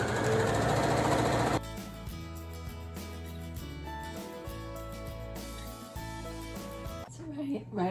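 A sewing machine stitching around the outside of a star quilt, a loud rapid motor run for the first moments, then a steady rhythmic humming chug that carries on to the end.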